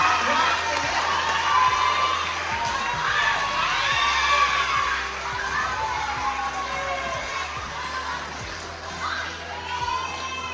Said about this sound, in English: let's give all these parents a big round of applause